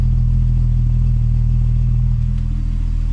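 A Volkswagen MK4 VR6 wagon with a GIAC tune, 268 cams, intake and exhaust runs steadily nearby, its loud deep engine drone holding an even, unbroken idle throughout with no voices.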